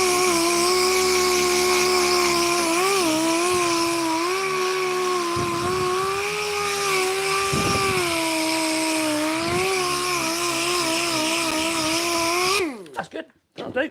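A router whines at a high, steady pitch while cutting a rebate into an oak board frame in a workshop, the tone dipping briefly as it bites, then spinning down at the end.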